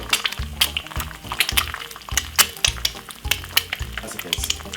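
Two cracked medium eggs poured into a hot pan, giving a steady close sizzle with crackling pops and bursts, over soft background music.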